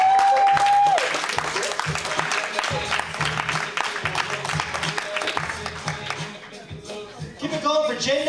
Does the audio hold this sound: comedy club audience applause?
yes